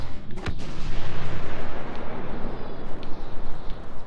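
Grenade blast amid a Star Wars Battlefront firefight: a loud, booming roar of explosion and heavy weapons fire that rumbles continuously without a break.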